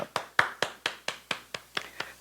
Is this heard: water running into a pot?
no